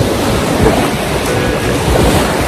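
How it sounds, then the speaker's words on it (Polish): Waves of the cold Baltic Sea washing onto a beach, a steady, loud roar of surf blended with wind noise on the microphone and no break throughout. "Tylko nasze zimne Morze Bałtyckie i nasza plaża."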